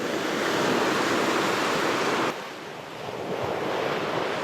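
Sea surf rushes in a broad, steady wash near Pondicherry, heavily mixed with wind buffeting the microphone. It dips briefly midway, then returns.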